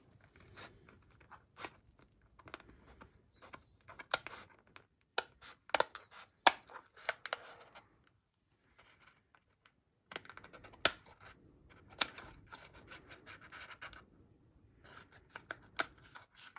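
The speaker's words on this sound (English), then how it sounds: "I might use the scissors, it'd be a bit safer," Scissors cut through a cardboard box in a series of sharp snipping and crunching clicks, irregular and close, with pauses between bursts and no talking.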